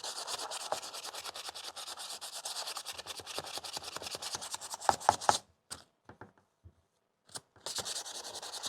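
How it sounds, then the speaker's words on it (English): A hand rubs back and forth over scratched paint on a Yamaha R 125 motorcycle, giving close, soft, rhythmic scraping strokes that stop briefly near the end before resuming. "I'm just going over with my hand to see how the scratches feel"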